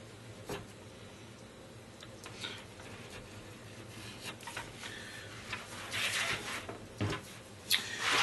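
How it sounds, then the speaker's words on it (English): A blade cuts leather for an armor costume, making soft, close scraping and rasping strokes at irregular intervals that grow a bit louder near the end, over a quiet background hum. "keep the blade straight up and down and not start angling it when you're cutting"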